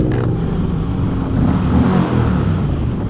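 A heavy V-twin motorcycle engine revs up loud and close, a dense, steady throaty roar with no talking.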